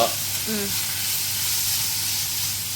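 Ingredients for a chicken stew sauté lightly in a pan, giving a steady, even sizzle and hiss throughout, with a brief faint voice-like tone near the start.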